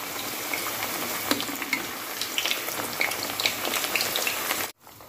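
Thattai rice crackers deep-frying in hot oil over a medium flame, a steady dense sizzle with scattered crackling pops throughout, close and fairly loud, cutting off abruptly near the end.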